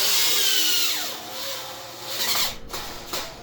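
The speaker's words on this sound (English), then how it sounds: "I'm screwing it together" A power drill driving screws into a wooden toddler bed, with a whining motor that rises and falls across several short runs, fairly close and without talk.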